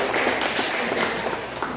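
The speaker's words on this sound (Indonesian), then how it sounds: "tepuk tangan dulu" Audience applause breaking out at a fishing-community training session, a dense steady wash of clapping hands that holds evenly from start to finish with no talk over it.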